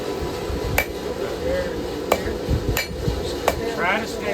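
Hand hammer striking hot steel while forging a knife blade near the tip, four or five sharp ringing blows spaced irregularly over a steady shop background hum.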